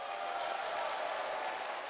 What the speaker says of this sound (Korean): 한번 커다랗게 박수 한번 크게 부탁드리겠습니다